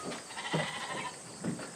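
Goats bleat inside a sheep barn on a homestead, two short nasal cries spaced about a second apart over a steady background hum, close and moderately loud.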